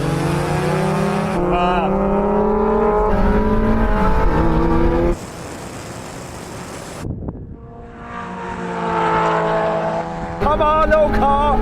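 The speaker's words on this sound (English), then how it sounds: "Now we have a rolling race from 30 miles an hour in second gear." Supercharged Mazda Roadster NC and NB drag race in a rolling start from second gear, engines revving and climbing through gears with whining harmonics, loud and close, briefly cut by a noisy burst, a voice heard intermittently.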